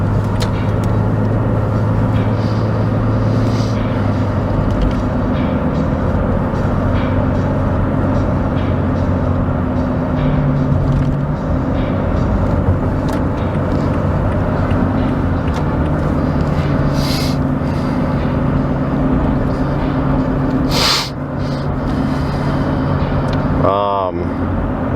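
Steady road rumble and engine drone from inside a moving car, continuous throughout as it drives and brakes at a light, with people talking over it.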